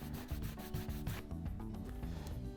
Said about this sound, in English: Grab any sort of cloth and rub the spine of your book.